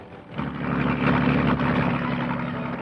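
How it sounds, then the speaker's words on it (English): A motorboat engine drones in, growing louder and then holding a steady throbbing hum, fairly close. "Is that a boat coming this way?"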